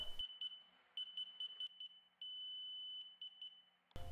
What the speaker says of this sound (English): The annoying beeps will happen again